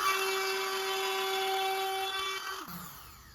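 Makita plunge router cutting grooves in wood, a steady high whine at full speed that holds for over two seconds before the motor winds down, close and loud with no talk.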